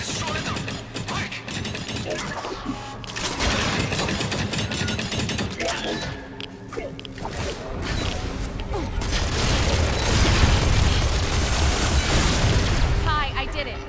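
Overheating energy cells burst in a loud, dense barrage of booms and crashes inside the Core Foundry in ReCore, with mechanical creaking and clatter throughout and a heavier rumble building near the end; game voices speak over it.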